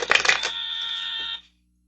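A phone rings in a single bright electronic burst of about a second and a half that cuts off abruptly, loud and close, with no talking.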